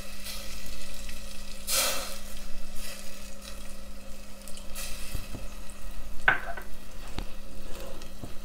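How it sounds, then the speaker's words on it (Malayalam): Tamarind water is poured over a sardine curry in a pressure cooker pan, setting off a few soft bursts of sizzling amid a low, steady cooking hiss and light stirring scrapes. "പുളി ഞാൻ പുളിവെള്ളമാക്കി എടുത്തിട്ടുണ്ട്. അപ്പോൾ അത് ഇതിൻ്റെ മുകളിലേക്ക് ഒഴിച്ചു കൊടുക്കാം."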